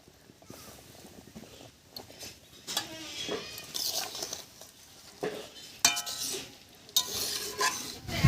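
Fried fish stirred into a thin fish curry in a pan: irregular scraping and clinking of a utensil against the pan over a soft simmering sizzle, close and moderately loud.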